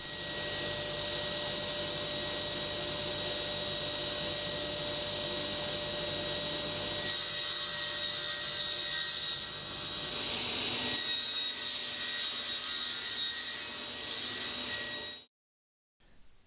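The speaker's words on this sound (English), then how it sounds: "I brought them all into the shop and cut them into roughly oversized squares." Offcuts of OSB ceiling panels are cut into rough squares in a workshop, a steady loud mechanical hum and rasp running for about fifteen seconds before stopping abruptly.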